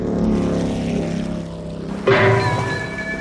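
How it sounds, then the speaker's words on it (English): A motorboat engine drones steadily at close range, then surges louder with a sudden rise in pitch and churning noise as the boat speeds up. "Stop the boat!"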